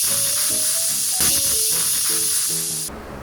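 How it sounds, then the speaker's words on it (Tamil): A pressure cooker on high flame cooking mutton for biryani lets out a loud, continuous steam hiss, with clattering tones underneath, before the hiss cuts off abruptly near the end. "ஸோ இப்போதைக்கு நம்ம 2 விசில் வைக்கலாம் ஹை ஃப்ளேமில்."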